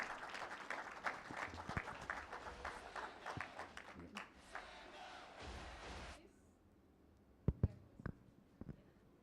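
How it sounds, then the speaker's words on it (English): An audience at a business awards launch event claps for about six seconds, dense and fairly close, then the applause fades into scattered thumps and faint room noise. "A hand clap, some ululation,"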